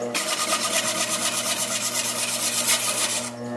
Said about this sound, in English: my particular tool of choice here is the bowl gouge